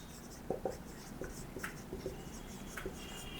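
Someone writes on a board while working a math problem, the chalk tapping and scratching in short, close strokes with brief pauses between them, with no speech.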